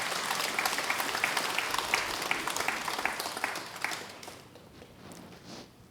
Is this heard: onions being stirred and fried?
no